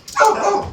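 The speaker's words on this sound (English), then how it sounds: "Uh-oh, mailman, dogs are going to..." A dog barks once at the mail carrier, a single loud, close bark that trails off with a short whine.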